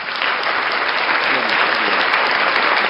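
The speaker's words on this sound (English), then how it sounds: "All right, round of applause for David E. Parsons." An audience claps loudly and continuously, a dense, even wash of applause with no break.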